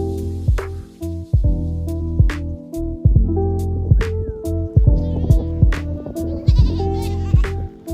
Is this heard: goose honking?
no